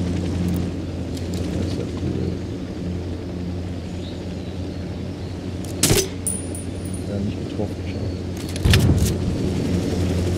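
A helicopter in the video game Ghost Recon Wildlands drones overhead as a steady low rumble, broken by a couple of sharp, loud blasts, with occasional voice chatter over it.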